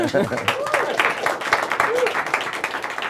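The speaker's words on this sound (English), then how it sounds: "you're allowed to clap for that" A crowd claps at a PlayStation 4 presentation event, a fairly loud, uneven patter of many hands with a speaking voice mixed in over it.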